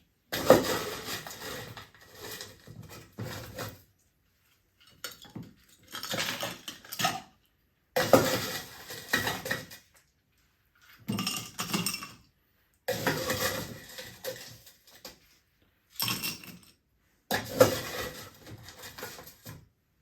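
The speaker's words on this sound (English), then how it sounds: "And we're going to fill the glass with ice." Ice is dropped and scooped into a tall Tom Collins glass in repeated bursts of clattering, clinking cubes separated by short pauses, close and fairly quiet, with no talk.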